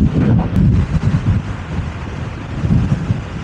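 Strong, chilly wind buffets the microphone in a steady, rumbling roar with gusty swells, loud and close, while riding an electric scooter.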